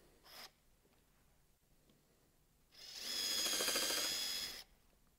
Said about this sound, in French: je vais simplement faire un premier perçage dans cette pièce